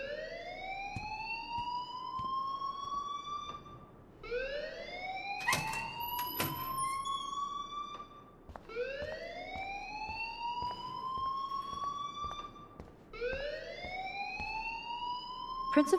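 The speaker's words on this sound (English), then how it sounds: "please turn off that alarm since that's your job" A fire alarm wails inside the game Life is Strange, four rising electronic sweeps repeating steadily at close range, with brief clatters and faint background noise between cycles.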